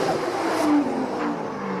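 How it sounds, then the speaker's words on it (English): A drift car's engine revs hard and continuously at a drifting event at The Bend, South Australia, a loud, sustained roar with rising and falling pitch close by and no talk over it. "All right, stop the revving, brother."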